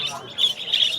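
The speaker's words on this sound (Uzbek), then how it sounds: "Marg'ilon kombinat qush bozoriga shunaqa ajoyib qushlar chiqyapti" A parrot at the Margilan bird market gives a short, shrill squawk, loud and close, with faint talk and market bustle underneath.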